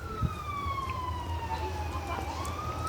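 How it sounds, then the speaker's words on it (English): An ambulance siren sweeps past at a distance, its wailing tone sliding slowly down and then rising again over a low rumble of background noise. "Oh, ambulance going back off."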